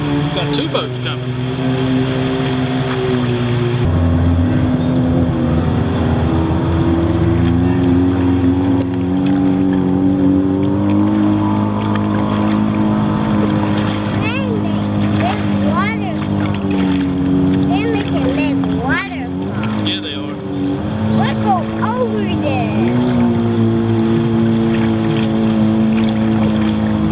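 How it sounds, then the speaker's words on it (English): Motorboats drone past on the Yadkin River, heard from a kayak, with a loud, steady engine hum that rises and shifts in pitch as two boats pass close by over most of the stretch. "Got two boats coming."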